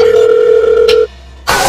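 A steady telephone tone sounds loudly after dialing a delivery number, holding for about a second before cutting off into silence, then a burst of noise follows.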